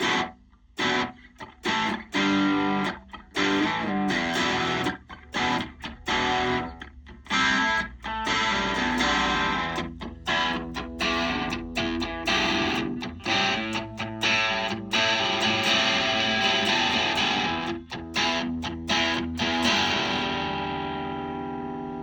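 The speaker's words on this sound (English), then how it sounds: "I kind of want to explain how we could achieve maybe a reverb sound with a delay instead" Electric guitar played through the delay effect of a Donner Arena 2000 multi-effects pedal, distorted chords struck in a choppy rhythm with repeats, ending on a sustained ringing chord that fades out.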